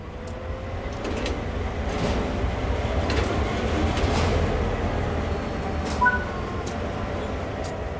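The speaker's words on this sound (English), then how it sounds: "With the power unit running," A GP38-2 diesel locomotive power unit starting up in Train Sim World 5, giving a steady rumbling engine drone with a slight rise and a brief clank near the end, heard with no talking.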